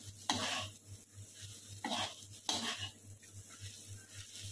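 Soaked kurdai being stirred and fried in a pan with onion masala, quick scraping strokes and soft sizzling in a few bursts, faint and close, with no voices.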